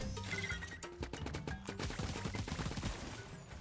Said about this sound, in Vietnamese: đặt súng máy ra.